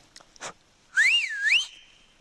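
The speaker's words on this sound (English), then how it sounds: "I've got a good, solid, you know, human-made whistle" A shrill human-made whistle, blown by mouth outdoors in the Romanian wilderness, wavers up and down in pitch for under a second, preceded by a couple of faint short sounds.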